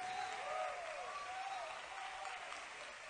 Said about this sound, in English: I said clap your hands unto him